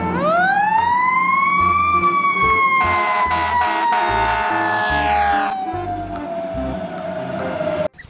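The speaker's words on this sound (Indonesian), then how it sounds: "Yang ini mobil pemadam kebakaran." A toy fire truck that transforms into a robot sounds its siren, wailing loudly, its electronic tone rising and falling with rapid electronic pulses, ending in an abrupt click.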